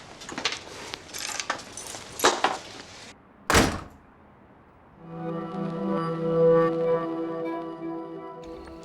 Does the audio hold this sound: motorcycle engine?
no